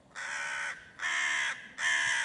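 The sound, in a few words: crow cawing in a cartoon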